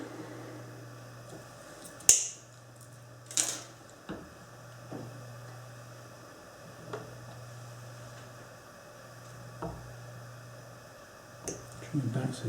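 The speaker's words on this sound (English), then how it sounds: "Trim back so it's just cut underneath the branch" Wire cutters snip bonsai wire in a few sharp clicks, two louder ones close together early and several softer ones later, over a low steady hum.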